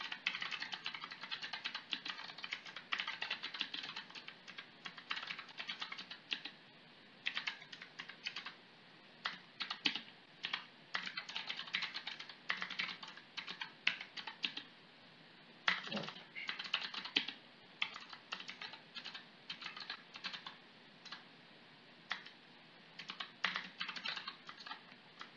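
Steady computer keyboard typing while a line of Python code is written, with quick irregular bursts of keystrokes and short pauses, close and fairly quiet, no talking.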